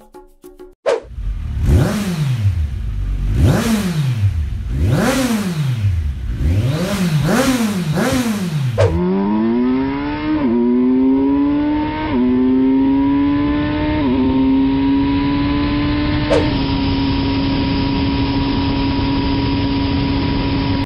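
A BMW S1000 XR sport-touring motorcycle engine revs repeatedly in sharp rising and falling bursts, then pulls through climbing gears, settling into a loud sustained high-speed roar.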